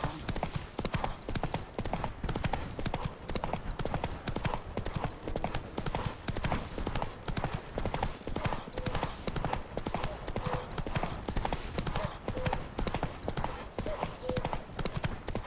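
Roach, the horse in The Witcher 3, trots steadily with a continuous rhythmic clip-clop of hooves, close and fairly loud over a dense ambient game soundscape, with a brief whinny-like touch and some voice mixed in.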